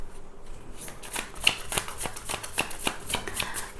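Tarot cards shuffled by hand in a quick run of soft, crisp riffling flicks, close and fairly quiet with no talking.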